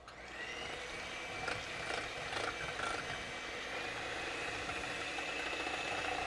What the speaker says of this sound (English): And beat the eggs as high as you can get your hand mixer to go.